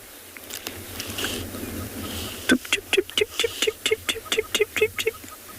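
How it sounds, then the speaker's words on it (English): A francolin gives a rapid run of repeated harsh alarm notes on an early-morning safari at Tswalu, starting after a quiet stretch and clear against a faint wind. "Sounds like a francolin, but yeah, it is a francolin"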